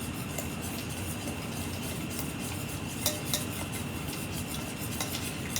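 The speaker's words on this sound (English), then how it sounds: "We're going to whisk that in." A whisk stirs an egg into melted butter in a heavy-bottomed pan, a soft continuous scraping with faint metallic taps against the pan, quiet and close with no talk.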